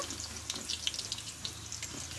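Mung dal frying in hot oil gives a steady, close crackling sizzle with scattered sharp pops over a low hum.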